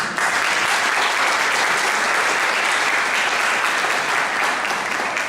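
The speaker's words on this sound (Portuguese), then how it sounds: "Merece uma salva de palmas às mulheres." Sustained, dense applause from a church congregation honoring the women during an Easter service, loud and steady throughout with no talking over it.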